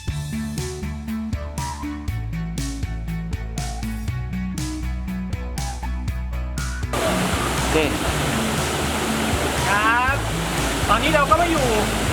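Music plays, then cuts to a steady, loud rushing roar of the Huai Yang waterfall in Thailand, in rainy season, continuing to the end.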